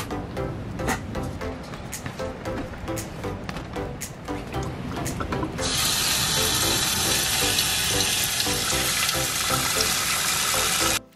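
Water running from a kitchen tap while macaroni is being cooked, a constant loud splashing rush that grows stronger and broader partway through, with softer clatter and drips before it.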